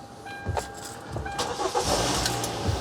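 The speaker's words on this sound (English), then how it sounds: "This little thing started the car." A car engine cranks and catches after being boosted by a small UIBI portable jump starter, short bursts of cranking followed by the engine running, heard close with no talking.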